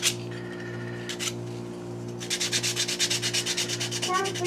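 Hand sanding a wooden pinewood derby car: a steady scratchy rubbing at first, then quick rhythmic back-and-forth strokes, close and fairly loud.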